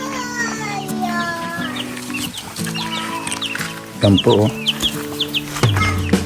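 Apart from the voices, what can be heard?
chickens clucking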